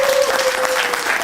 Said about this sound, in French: j'aimerais que vous puissiez acclamer